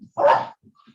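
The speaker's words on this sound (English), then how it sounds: "apologies for the dog in the background." A dog barks once, loud and fairly close, in the background of an online cyber security talk, followed by a couple of faint short yips.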